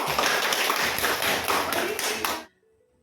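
Classroom applause, a group of students clapping hands together in a dense, lively burst for about two and a half seconds before it stops abruptly into near silence.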